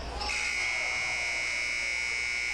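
Loud, steady electronic buzzer sounds at halftime of a Watertown at Crosby high school basketball game, a sustained bright tone holding for over two seconds after a short burst of gym noise.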